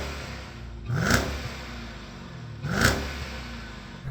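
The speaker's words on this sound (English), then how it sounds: "Let's have a listen to the Jeep." Jeep Grand Cherokee Trackhawk engine blipped twice, about two seconds apart, each rev rising sharply from a steady idle rumble and falling back, heard up close with no talking.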